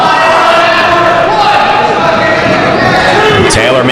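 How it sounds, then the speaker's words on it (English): A wrestling crowd in Rahway, New Jersey, cheering and chanting for Genki Horiguchi during a six-man tag match, a loud, steady roar of many voices with a commentator talking over it. "Crowd here in Rahway, New Jersey, trying to get behind Horiguchi"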